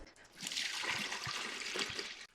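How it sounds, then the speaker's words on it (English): Water being poured into a bucket for a traditional mead, a steady splashing rush for about two seconds that stops abruptly, close and alone. "So we'll put some water in, not all of it."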